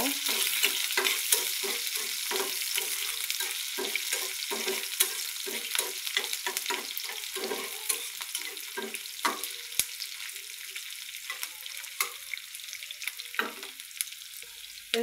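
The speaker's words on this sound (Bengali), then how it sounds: "দিয়ে আমি এগুলোকে প্রথমে একটু ভেজে নেব" Chopped onions and chillies sizzle in hot oil, with irregular stirring scrapes and crackles over a steady frying hiss, close and fairly quiet.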